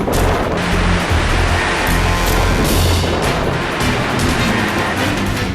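Roaring sea surf on the Bay of Bengal coast ahead of Cyclone Hudhud, a loud, continuous broadband wash with heavy low rumble and no break across the whole stretch.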